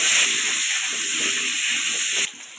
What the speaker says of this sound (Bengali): এবার কুমড়োগুলোও ভেজে নেব লাল লাল করে